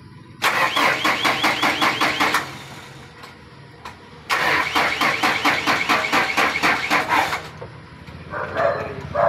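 Car engine cranked by a strong starter motor in neutral: two rapid, loud rhythmic cranking runs with a brief pause between, then a lighter, fainter stretch at the end.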